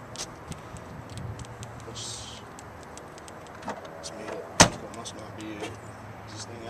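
A 2012 Nissan Rogue is locked with its intelligent key: a single sharp clunk of the door locks stands out among faint clicks and low background noise.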